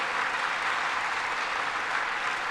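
A crowd applauds steadily, a dense even wash of clapping at moderate distance, sustained throughout without speech.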